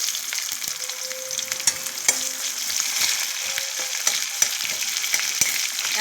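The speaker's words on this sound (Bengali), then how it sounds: "এবার দেখুন আমি পেঁয়াজ দিচ্ছি, পেঁয়াজ কেটে রেখেছিলাম কুচনো পেঁয়াজ" Chopped onions hit hot oil in a pan and fry with a steady, close sizzle, broken by occasional clicks and scrapes from stirring; nobody speaks.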